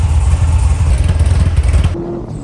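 A C6 Corvette Z06 engine with a fuel leak idles in quiet mode, a loud, steady low rumble that cuts off sharply near the end.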